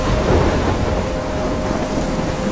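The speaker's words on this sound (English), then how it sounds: "I'm trapped in a storm?" Thunderstorm in the video game Life is Strange: heavy rain hisses steadily while low thunder rumbles beneath, loud and enveloping, with wind in the mix.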